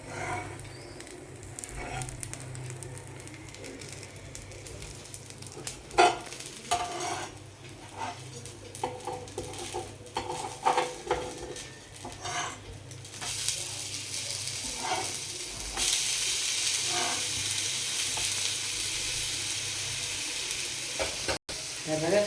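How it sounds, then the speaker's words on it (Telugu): Chitti pesarattu frying in oil on a pan gives a soft hiss broken by spatula scrapes and clicks, swelling into a louder, steady sizzle in the second half. "సో ఆయిల్ వేసుకొని ఒక్కసారి వేయించుకోవాలి"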